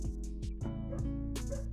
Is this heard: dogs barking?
yes